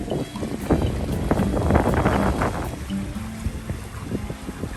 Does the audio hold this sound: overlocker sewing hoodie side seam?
no